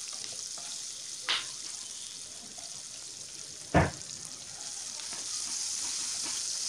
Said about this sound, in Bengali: একসঙ্গে পেঁয়াজ আর আলুটা ভাজা হয়ে যাবে